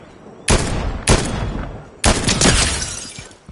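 Gunfire in the video game Fortnite: three loud, close shots with sharp onsets, each trailing into a long noisy decay, the last followed by rattling debris-like tails.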